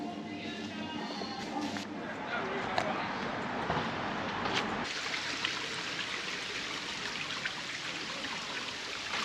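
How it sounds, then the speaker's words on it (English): A stream runs through Shanklin Chine on the Isle of Wight, a soft continuous wash of flowing water under nearby chatter and faint voices. "you can probably hear the water in the background"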